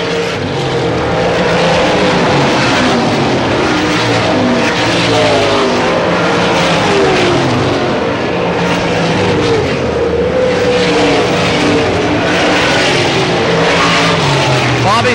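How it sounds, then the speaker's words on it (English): Dirt track race cars at Selinsgrove Speedway in 1989 roar continuously at close range, engines revving and droning as the pack circles the oval, with a commentator's voice running over the engine noise. "Kuhn now gets up around the outside of Landis."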